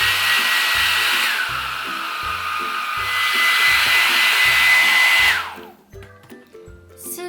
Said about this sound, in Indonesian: Biar cepat kita bisa pakai hair dryer.